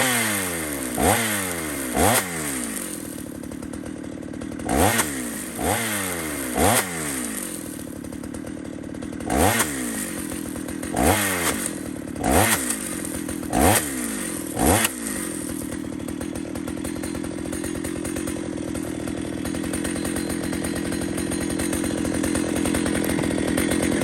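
A chainsaw is revved in a quick series of about nine sharp bursts, each rising and falling, before it settles into a steady, rough idle for the rest of the clip, with no talking.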